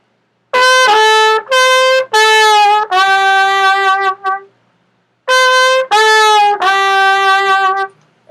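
A solo trumpet in a tune plays a short phrase of clear sustained notes, loud and close, with a pause before the line repeats. The last B falls downward in tone as it fades.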